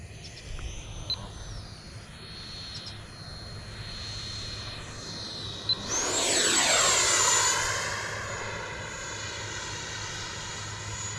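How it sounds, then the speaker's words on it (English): Propeller airplane making a low flyby pass, a steady distant drone that swells loud as it sweeps past mid-clip with a falling Doppler pitch, then fades away into steady background noise. "I'll do one more flyby and then we'll put her down."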